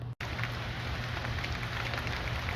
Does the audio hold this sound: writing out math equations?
no